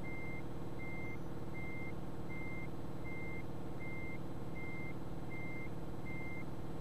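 A truck reverses in Euro Truck Simulator 2, its reversing alarm sounding nine evenly spaced steady beeps over a constant low engine rumble.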